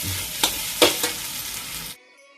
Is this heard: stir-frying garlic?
yes